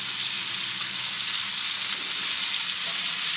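Steak sizzles in a cast iron pan with beef tallow and garlic over a gas grill, a loud, steady, dense hiss that runs throughout without a break.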